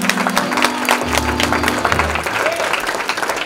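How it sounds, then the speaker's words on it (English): Church audience applause, a dense steady patter of many hands clapping in a hall throughout, with low sustained organ or keyboard tones beneath. "y'all give them another hand clap of praise"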